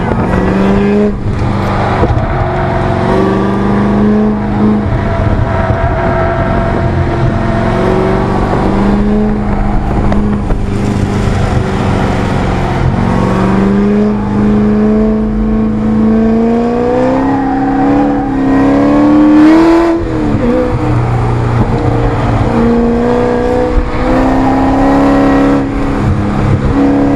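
A car engine fitted with ProEFI fuel injection runs steadily and loud at close range, its pitch climbing and dipping through repeated throttle blips and revs over nearly half a minute, with no talk.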